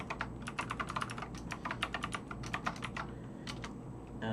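Someone types on a computer keyboard at a steady, fairly quick pace, each keystroke a crisp click in irregular bursts with a faint background hum underneath.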